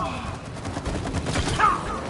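Rapid gunfire in the co-op video game It Takes Two, a dense, continuous crackle of shots mixed with other game sounds, while players talk over it.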